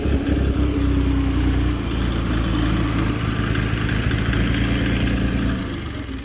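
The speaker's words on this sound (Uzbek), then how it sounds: "Bu mini traktorimiz Belarus 324." A Belarus 324 mini tractor engine runs steadily at close range, a loud continuous mid-pitched diesel rumble with even throb, easing slightly near the end.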